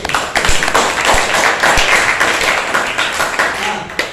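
Junior high school class in Indonesia applauding a student presentation group, a dense patter of many hands clapping at once, loud and close in a classroom, with a few sharper claps standing out.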